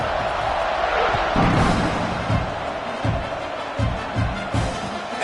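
Stadium crowd noise at a kickoff in the College Football 26 video game, a broad continuous roar with several thudding impacts and swells, no clear speech over it.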